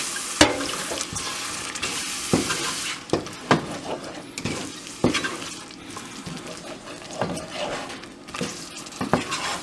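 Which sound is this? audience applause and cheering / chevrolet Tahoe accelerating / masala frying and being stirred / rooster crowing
masala frying and being stirred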